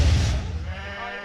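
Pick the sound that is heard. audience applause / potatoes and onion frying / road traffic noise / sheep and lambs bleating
sheep and lambs bleating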